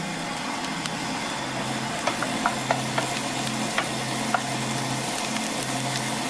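Garlic and chopped jalapeno sizzle steadily in a pan as pasta sauce cooks, a constant frying hiss with a few light clicks of stirring over a low background hum.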